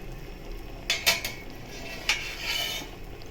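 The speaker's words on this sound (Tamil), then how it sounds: "இப்போ மூடி திறந்து பார்த்துடலாம்" A metal pot lid clatters and scrapes as it is lifted off a pot of boiling vegetable pulao, a few bright clinks close by, followed by a soft bubbling hiss.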